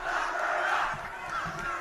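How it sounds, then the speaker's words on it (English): A crowd at a Trump rally chanting "Lock her up," a loud, dense mass of voices filling the whole short stretch with rhythmic swells. "Crowd is chanting, "Lock her up, lock her up,"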